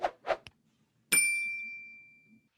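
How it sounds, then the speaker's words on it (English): A bright bell-like ding rings out once, loud and close, then decays slowly over about a second and a half, following a few short soft sounds. "hit the notification bell so you'll know when new videos are posted."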